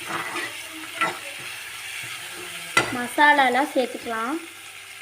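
Tomatoes sauté in a pan for egg poriyal, with a soft sizzle and occasional stirring scrapes beneath someone speaking Tamil, who talks through most of it.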